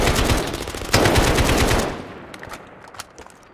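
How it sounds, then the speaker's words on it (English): Rapid bursts of AK rifle fire from a video game rattle loudly for about two seconds, then fade into scattered quieter shots. "all I could hear was an AK going off"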